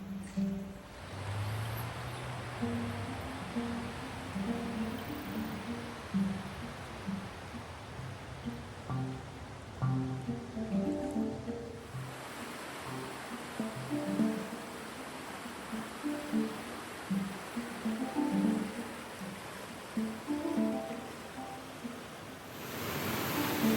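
Rain falling at a mountain retreat in Utuado, Puerto Rico, a continuous broad hiss of steady rainfall with faint low murmurs beneath, loud and unbroken throughout.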